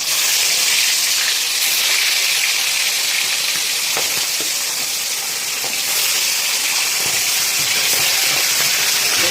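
Katla fish heads frying in hot oil in a pan give a steady, loud, continuous sizzle with a broad hiss throughout, no voices over it.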